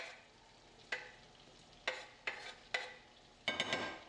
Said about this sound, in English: Start sauteing them up.